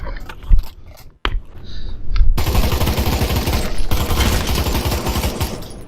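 Sustained bursts of automatic rifle fire in the VR shooter Pavlov VR, set to select fire, loud and close; a few sparse shots at first, then a continuous rapid rattle from about two seconds to the end.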